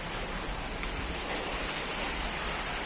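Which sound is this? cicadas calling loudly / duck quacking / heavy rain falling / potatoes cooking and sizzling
heavy rain falling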